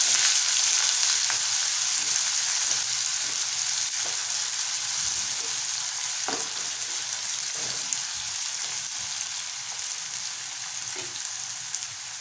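Finely chopped onion frying in a pan for boiled potato curry, a loud, even hiss of sizzling oil with occasional soft taps of stirring, close up and without speech.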